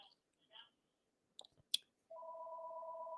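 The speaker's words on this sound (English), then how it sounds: "We apologize for the phone ringing in the background." A telephone rings steadily in the background after a few scattered clicks and faint knocks, a sustained two-tone electronic ring at low level that continues to the end.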